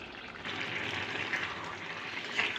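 A pot of bottle gourd curry broth boils uncovered, giving a quiet, steady watery bubbling and gurgling that grows slightly after a brief softer start.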